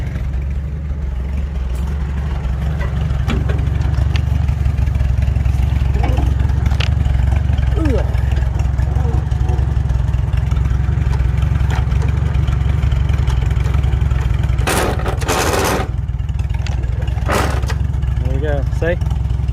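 A 1943 Farmall H tractor engine running steadily at a low, even idle throughout, with a few mechanical clunks and knocks and someone talking over it.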